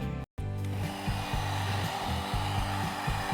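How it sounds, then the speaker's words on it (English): A hair dryer blows continuously at close range over paper coated with turmeric powder, a steady airy whoosh with a brief dropout near the start and faint rhythmic rubbing underneath. "Here we are using hair dryer as we don't have much time to put it in direct sunlight."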